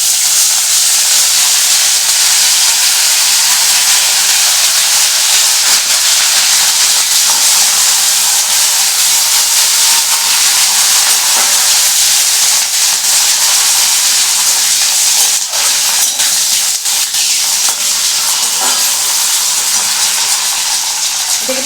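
Curry leaves sizzle and crackle in hot oil alongside cashew nuts in a pan of Bengali moong dal with vegetables, giving a loud, steady hiss that runs unbroken from start to finish.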